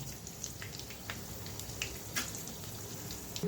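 Whole garam masala spices, bay leaf and panch phoron sizzle in hot oil, a steady close crackling hiss with scattered sharp pops, no voices.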